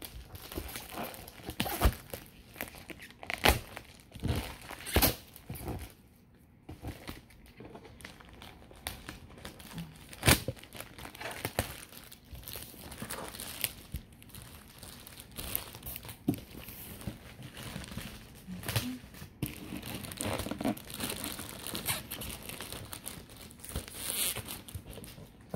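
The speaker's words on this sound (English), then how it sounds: "Okay, gotta go through another box." Packaging for a touch screen car radio for a Hyundai Elantra is handled while a cardboard box is unpacked, giving close, irregular crinkling, rustling and tearing sounds with occasional sharper crackles and no talking.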